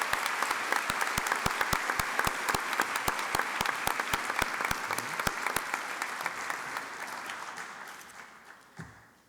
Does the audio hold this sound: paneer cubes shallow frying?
no